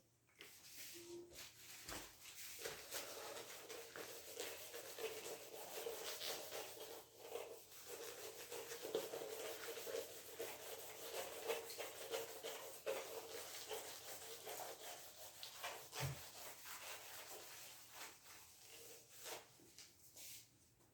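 Eraser rubbing out a drawing on a board, a steady close scratchy friction running in continuous strokes with brief pauses, alone without talk.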